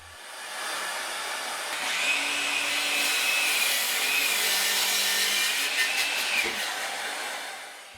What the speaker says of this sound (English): Boom, 2x12 cut with a 7 1/4 inch blade on a battery powered miter saw.